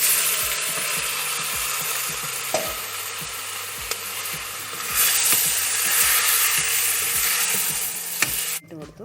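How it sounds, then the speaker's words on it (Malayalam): Marinated chicken for biryani sizzles loudly in a hot pan, a dense continuous frying hiss broken by scattered stirring clicks and scrapes of a utensil. "ഇനി ഒന്ന് വഴന്ന് വരുമ്പോൾ നമ്മൾ മാരിനേറ്റ് ചെയ്ത ചിക്കൻ ഇട്ട് കൊടുക്കാം."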